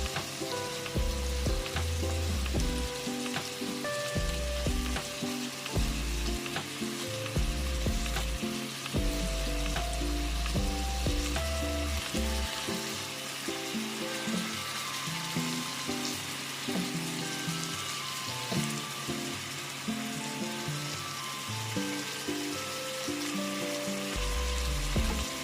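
Beef and enoki mushroom rolls sizzle loudly and continuously in a frying pan while being turned, with soft clinks and shuffles of the utensil over the steady crackle and no voices.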